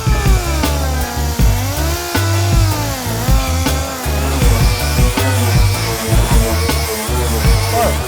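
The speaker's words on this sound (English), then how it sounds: "I put a little less pressure. I don't want to grind off too much base metal." Grinding on a metal body panel for a widebody Datsun 280Z gives a loud, close, continuous whine whose pitch rises and falls as the pressure changes, cut by short scraping bursts throughout.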